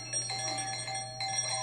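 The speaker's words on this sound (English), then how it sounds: "What's that? The doorbell." A doorbell chimes indoors with a short, bright ding-dong tone that rings out briefly and clearly. No one speaks over it.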